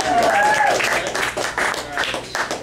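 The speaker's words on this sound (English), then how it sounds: "Can I get a clap for that?" An audience claps in a short burst, loud at first and then tapering into uneven patches, with voices and cheering mixed into the clapping.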